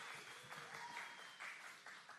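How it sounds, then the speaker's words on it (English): Applause from a conference audience at WalletCon 2024, a steady wash of clapping lasting a couple of seconds, moderately loud. "Applause, please."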